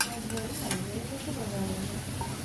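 Curry leaves, onion, ginger garlic paste and ground chilli paste frying in oil for a ridge gourd dish, a steady close sizzle with stirring scrapes and a couple of light metallic taps.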